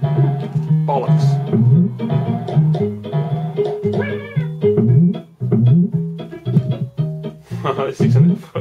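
Cat meows from the Super Nintendo game Dennis the Menace ring out over steady chiptune music, with someone talking throughout.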